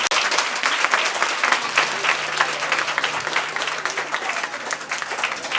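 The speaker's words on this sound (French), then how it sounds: "Applaudissez pour moi, s'il vous plaît." Summer camp children and staff applauding at an evening gathering, with loud, dense clapping from a crowd that stays close and continuous throughout.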